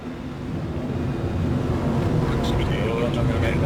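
Spaceship engines roar in the game Star Citizen, a steady broad rumble that swells slightly and holds loud throughout, with faint overlaid game sounds.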